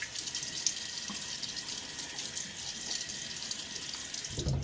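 Running tap water splashes steadily into a sink while a face is wetted before a shave, continuous and close, with a brief bit of quiet talk near the start.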